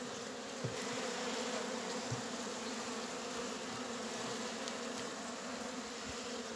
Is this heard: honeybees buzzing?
yes